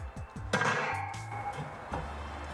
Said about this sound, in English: Now my grate goes on top.